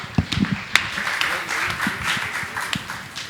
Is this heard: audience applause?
yes